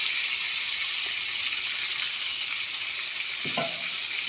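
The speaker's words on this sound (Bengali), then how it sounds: "মশলা দিয়ে এবার একটু কষিয়ে নেব।" Chicken curry sizzles steadily in a pan as it is sautéed with turmeric and spices, a continuous close frying hiss with a few faint stirring knocks near the end.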